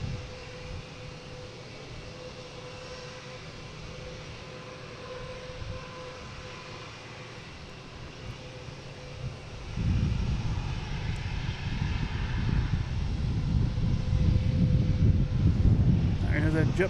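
Jet airliner taking off, distant engine hum that swells into a louder, rumbling roar partway through, with a voice speaking over it at times.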